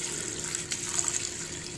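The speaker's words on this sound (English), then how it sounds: "just pour out the excess water" Excess rinse water poured out of a bowl of sushi rice, a steady close hiss of running, splashing water heard alone at moderate level for a couple of seconds.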